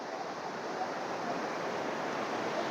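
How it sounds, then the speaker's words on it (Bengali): Water pouring and rushing at Bhatinda waterfalls near Dhanbad, a steady broadband roar that stays even and unbroken throughout, with no voices. "আর ওয়াটারফলসের জল কিছুটা এইরকম।"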